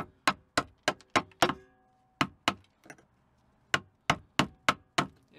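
A hammer strikes a sharp chisel to chip material away while working on a Mazda RX-7 FC. Crisp, close metallic blows land in quick bursts of four or five, with short pauses between.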